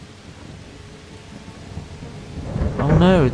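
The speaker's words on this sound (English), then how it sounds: "That rain's getting quite loud." Steady rain and rolling thunder in the medieval video game Kingdom Come: Deliverance, a constant hiss that swells louder toward the end, where a brief tonal call rises over it.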